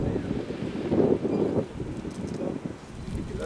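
Wind rushes across the microphone during a paragliding flight at Les Choucas, a steady low buffeting roar that swells and eases, with no voices heard.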